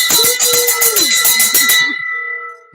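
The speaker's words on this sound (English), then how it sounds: "Get the bell." A bell struck several times in quick succession, bright and ringing with a metallic shimmer, then left to decay into a lingering fading tone; no one speaks over it.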